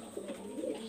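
Pigeons, a golden bird among them, give low rolling coos in short overlapping pulses, close and steady, with no voices.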